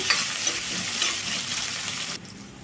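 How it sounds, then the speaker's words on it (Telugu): Chopped onions and green beans fry in a pan, a loud close sizzle under continuous stirring that drops abruptly quieter near the end. "ఒక నిమిషం పాటు ఇట్లా వేయించుకుంటే సరిపోతుందండి"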